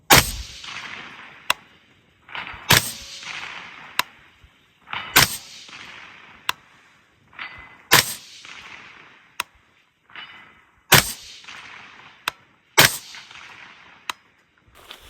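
General purpose rifle shots fired outdoors, about half a dozen loud cracks spaced a couple of seconds apart, each trailing into a long rolling echo, with sharper distant impacts or clangs between them.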